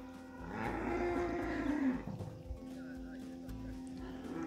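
Dairy heifers on a farm mooing as they walk past one by one, a long nearby low moo followed by quieter lowing and shuffling, with faint voices in the background.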